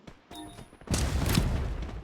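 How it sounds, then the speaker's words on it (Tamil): A sniper rifle shot in a video game, a single sharp blast with a booming tail after a brief quieter lead-in. "sniper bullet"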